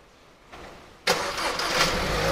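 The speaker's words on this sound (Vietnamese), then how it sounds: "anh em nghe tiếng máy nổ máy rồi ha" A 2022 KIA Sportage engine starts by remote start: a faint click, then the starter catches and the engine fires into a steady, close idle with no voices.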